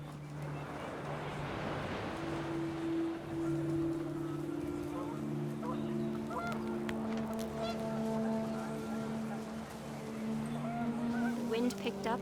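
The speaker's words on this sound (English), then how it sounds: "The wind picked up, and panicked geese appeared and quickly went." Panicked geese honk repeatedly in the game What Remains of Edith Finch, their calls rising over gusting wind and a steady background drone, with a voice talking throughout.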